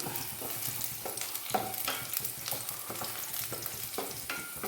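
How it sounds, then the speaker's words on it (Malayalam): Dried curry leaves fry in a pan, giving a soft, steady sizzle and crackle broken by repeated stirring scrapes, fairly quiet and close with no talking. "ഇനി ഒരൽപ്പം കറിവേപ്പില, ഒരൽപ്പം ഉണങ്ങിയ കറിവേപ്പില എടുത്തുകൊണ്ടെന്ന് വെച്ച്"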